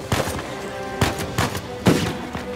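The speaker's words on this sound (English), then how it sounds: "Alright, I'm gonna shoot this dude." Gunfire in Uncharted 4: A Thief's End, several loud shotgun-like blasts in quick succession over a dense game soundscape, with a voice mixed in.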